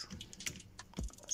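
Quick, light taps of a computer keyboard as someone types a message into WhatsApp Web, soft and close, with a slightly heavier keystroke near the end and no talking.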